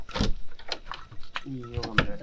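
The wooden door of a hut in a jungle opens with short knocks and creaks, separated by brief pauses, while someone speaks close by.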